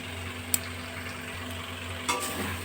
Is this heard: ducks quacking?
no